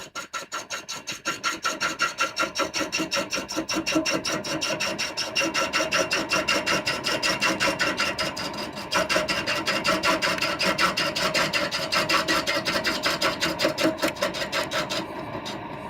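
A really big wood lathe turns a large bowl while a tool works the surface, producing a steady, rapid rhythmic scraping pulse that runs continuously and evenly for the whole stretch, close up with no voices.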